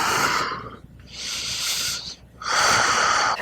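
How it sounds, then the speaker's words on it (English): Slow, deep breaths during a standing splits yoga practice, three long airy hissing inhales and exhales close to the microphone, evenly spaced with brief pauses between. "Breathe deep breaths."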